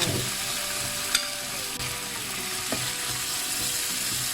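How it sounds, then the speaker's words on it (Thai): Pork stir-frying with panang curry paste in a pan, a steady close sizzle with occasional scrapes and clinks of a utensil throughout. "เราจะผัดหมูกับน้ำพริกแกงก่อนค่ะ"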